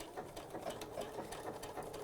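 A sewing machine stitches appliqué fabric with red thread, its needle running in a steady, fast mechanical patter close by, with brief uneven pauses and no talking.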